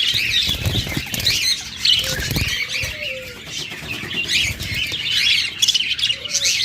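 Caged lutino Japanese pet birds give shrill squawks and bursts of wing flapping at close range, with short chirps scattered through a busy, continuous chatter.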